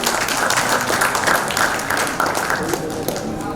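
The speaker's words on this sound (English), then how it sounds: "Ladies and gentlemen, can we have a huge round of applause, please?" Audience at a supply chain business event gives a round of applause for an introduced IBM executive, continuous clapping with voices mixed underneath.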